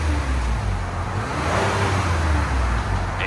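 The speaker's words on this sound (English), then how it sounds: "So we're gonna do muffler delete, and we'll let you guys hear it." A 2020 Chevrolet Blazer RS with a V6 and a muffler delete idles nearby with a steady, deep exhaust rumble that holds constant throughout.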